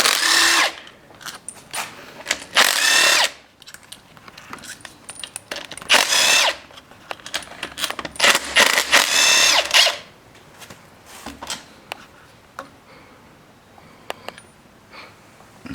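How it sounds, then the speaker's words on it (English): A power drill whirs in several loud bursts while removing the water pump bolts from a Subaru WRX turbo engine, with short pauses and clinks of metal between bursts. "Now we're just going to remove the water pump bolts."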